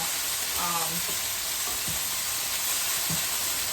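Chicken browning in a hot pan, a loud, dense, continuous sizzle and crackle close up, with a few faint scrapes of stirring underneath.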